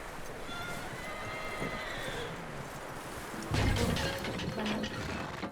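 A horse in Red Dead Redemption 2 whinnies and snorts amid hoof clopping, with a busy outdoor background and a low voice briefly underneath.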